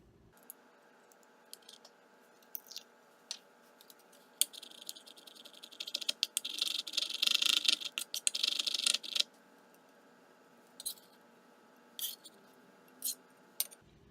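A knife chops capers on a cutting board, giving sparse, sharp taps that build into a quick, dense burst of rapid cuts before slowing back to scattered clicks, close and quiet.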